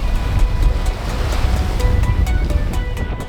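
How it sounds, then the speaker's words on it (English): Choppy, sharp open-sea waves slap and rush continuously at close range, loud and unbroken, with gusts of wind buffeting across the water. "the big rolling waves were gone, but in their place was a smaller but much sharper sea state"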